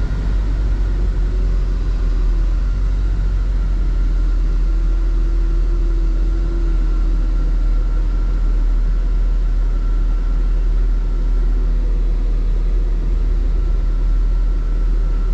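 1968 Oldsmobile 442 engine while driving, a steady low rumble with road and wind noise inside the cabin, smooth and fairly quiet with no speech.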